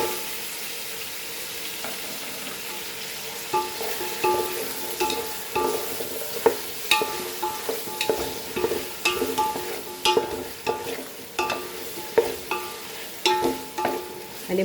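Potatoes stirred into a simmering Goan chicken curry: a soft bubbling sizzle under a run of irregular scrapes and clinks of a spoon against the pot, growing busier partway through.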